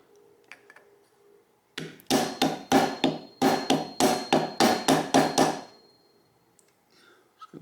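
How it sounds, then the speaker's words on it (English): A hammer strikes the vertical head of an Industro-Lite milling machine about a dozen times in an even rhythm. The blows are loud and close, with short quiet stretches before and after. "Hit it with a hammer."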